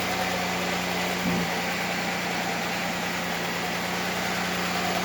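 A 1996 Chevy Camaro fitted with a swapped engine idles on its first start, giving a smooth, steady, close drone with a constant low hum and no shaking surges.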